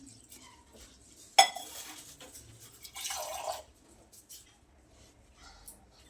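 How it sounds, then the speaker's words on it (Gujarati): Basmati rice being washed in a bowl of water, a sharp clink against the bowl followed by sloshing and swirling water, then quiet dripping. "હવે આપણે એને સરસ 2 થી 3 પાણીથી ધોઈ લઈએ।"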